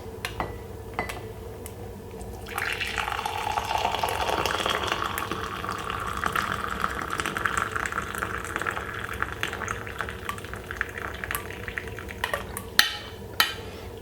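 A hot homemade bedtime drink is poured out of a pot, a steady close stream of liquid splashing into a container for about ten seconds before tapering off with a few clinks.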